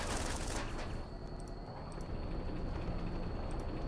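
Rapid automatic fire from a vehicle-mounted gun in Running With Rifles crackles continuously and loudly, with a burst of sharp shots at the start and distant pops behind.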